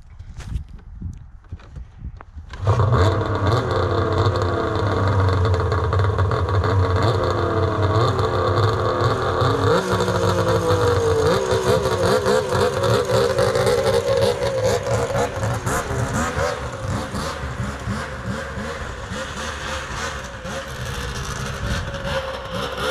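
A Polaris XCR 800 triple snowmobile engine starts after a few seconds of quiet, then idles and revs loud and close with a raw, buzzing two-stroke roar that runs through the rest of the clip, with no talk over it.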